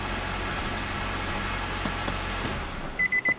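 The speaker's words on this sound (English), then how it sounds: "Okay, so we definitely got the vehicle started. I don't want to run it too long" A 2017 Nissan X-Trail Hybrid engine runs after a transmission repair, giving a steady, close idling rumble with hiss. The rumble fades near the end, where a few short electronic beeps sound.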